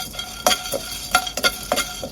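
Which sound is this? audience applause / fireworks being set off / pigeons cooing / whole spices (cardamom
whole spices (cardamom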